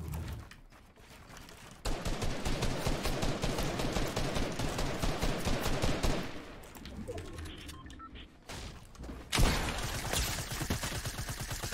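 Rapid automatic gunfire from a Fortnite Battle Royale match, loud bursts of repeated shots with brief pauses and a sharp blast near the end, with faint talk underneath.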